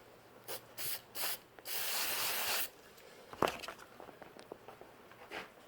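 Short hissing bursts from an aerosol spray can, a few quick puffs followed by a longer steady spray, close by and fairly quiet, with light handling clicks afterward.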